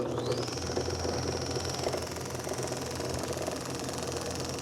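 A 95-year-old Kwik-Way multi-purpose shop machine runs at close range. It gives a continuous mechanical drone and rattle, with a whine that climbs as it spins up and then holds steady.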